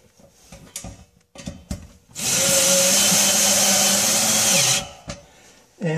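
A power drill drives a screw through a pre-drilled hole in a heat shield into drywall, one continuous loud whirring run of about two and a half seconds that winds down at the end, with quieter handling noises before and after.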